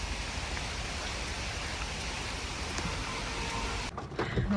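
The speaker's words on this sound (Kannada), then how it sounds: "ನೋಡಿ, ಮಳೆ ಬರ್ತಾ ಇದೆ." Rain pours down outdoors with a dense, continuous roar of drops, loud and close, briefly dipping near the end as a few knocks sound, with no voices.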